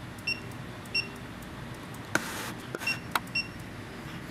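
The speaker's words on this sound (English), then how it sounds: "And the barcode is being scanned from here." A barcode scanner used with an HDBaseT extender setup gives several short, high beeps at irregular intervals, with a few clicks and handling knocks in a quiet room.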